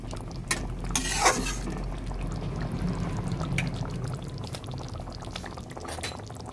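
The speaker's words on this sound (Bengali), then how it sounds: "দিয়ে দেব গরম জল।" Hot water is poured into a Bengali katla fish curry in a pan, a soft steady splash and bubbling for several seconds with a light clink of utensils near the start, quiet and close.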